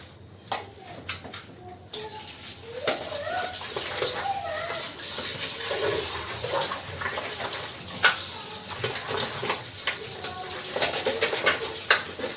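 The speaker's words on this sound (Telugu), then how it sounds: "అంతలోపు నేను చికెన్ కడిగేసుకుంటాను." Raw chicken pieces being washed under running water in a home kitchen while making gongura chicken, a steady hissing stream with soft splashes and handling noises throughout.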